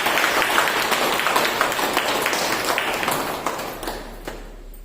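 An audience in a hall bursts into loud, sustained clapping, a dense patter of many hands that holds steady for several seconds and then thins slightly toward the end.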